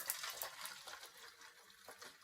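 Dirty water flushed from a car's fuel injector cleaner being poured out, a continuous light splashing trickle, fairly faint and close, with no talking.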